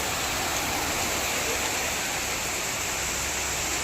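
Heavy monsoon-style rain hammers down in a dense, loud, uniform roar, a continuous close-up wash of water sound with no breaks or speech.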